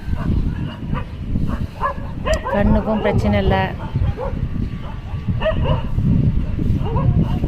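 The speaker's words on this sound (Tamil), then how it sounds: "எல்லா நாய்ங்களும் கூடி கத்திகிட்டு இருக்குதுங்க வெயிலில் டைம் பாஸ் ஆகாமல்." Several dogs bark, yip and whine together outdoors in the hot daytime sun, a loose chorus of calls running beneath a person speaking close by.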